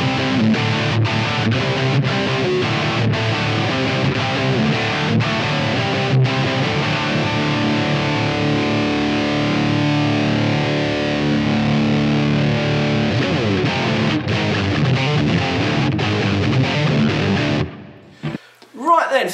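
Distorted Ed O'Brien Stratocaster electric guitar, gain at 2 o'clock, plays sustained chords and riffs with a reverb wash, loud and continuous, then cuts off abruptly near the end.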